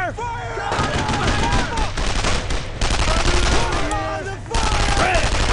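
Gunfire in the WWII shooter Brothers in Arms: Road to Hill 30, with dense overlapping rifle and machine-gun bursts in rapid volleys, loud and close, briefly dipping twice before resuming, while shouted voices cut through the battle.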